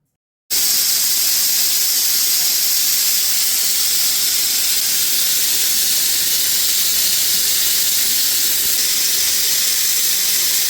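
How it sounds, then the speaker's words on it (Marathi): A pressure cooker of jackfruit pieces lets off a loud, continuous steam hiss that starts abruptly and holds at an even level, close by, with no voices. "कुकरच्या 4-5 शिट्या करून घ्यायच्या"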